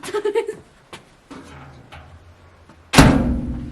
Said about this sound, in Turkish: Kapıyı kapatıp gidiyorsun.